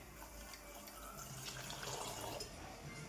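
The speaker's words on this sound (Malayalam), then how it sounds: "ഇനി നമുക്ക് എന്ത് ചെയ്യാം, തണുത്ത വെള്ളം ഒഴിച്ച് കൊടുക്കാം." Cold water pours into a bowl of cut watermelon pieces, a continuous close splashing stream that stays steady throughout.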